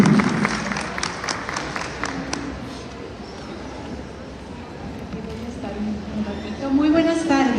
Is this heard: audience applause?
yes